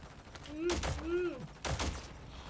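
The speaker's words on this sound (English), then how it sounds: "Yeah, keep shooting it." Gunfire in a zombie shooter video game: two loud, rapid bursts of shots about a second apart, with tonal vocal sounds sliding underneath.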